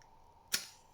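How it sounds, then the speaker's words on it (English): A single match struck for lighting a reusable match-powered rocket, one short sharp scratch and flare in an otherwise quiet setting. "Light match."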